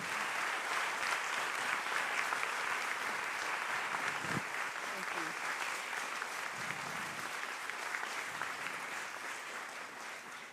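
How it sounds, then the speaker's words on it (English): Sustained applause from a conference audience, a dense steady wash of many hands clapping for the full length without fading, heard from within the hall. "Can I get a big applause for Sara Galli?"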